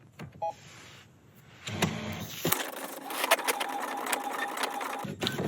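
A Brother MFC inkjet printer runs an alignment check, its print head carriage whirring and shuttling in a steady mechanical buzz with small clicks, starting after a brief quiet pause and ending in a short stop near the end.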